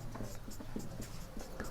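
Chalk or marker writing on a board during a Class 12 maths lesson on derivatives, a steady run of short scratchy strokes and taps close by, no voices.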